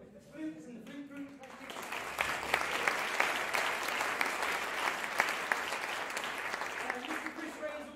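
Audience applause at a school senior summer concert, dense sustained clapping from a full hall rising after a brief spoken introduction and continuing steadily to the end.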